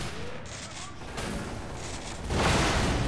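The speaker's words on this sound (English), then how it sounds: "Oh, is it the grenade? Bloody hell, the grenade's powerful in this." A powerful grenade blast in the Half-Life 2 mod Underhell, a loud burst that swells near the end of a short, noisy stretch with no voices over it.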